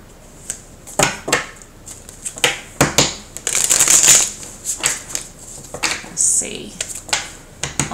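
Someone shuffles a deck of tarot cards, giving repeated crisp riffling and slapping bursts close by, with one longer rustling run in the middle.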